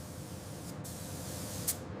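Spray gun laying a thin desert tan base coat over primer on a Cougar MRAP model, a steady soft hiss throughout with two brief brighter bursts of spray, no talking.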